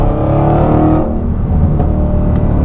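A Dodge Hellcat accelerating from a 30 mph roll with its tires spinning: a loud, steady engine roar that holds for about a second, then turns rougher and broken as the wheels slip, continuing at full volume.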